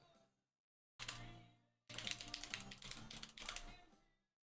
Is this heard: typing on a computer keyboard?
yes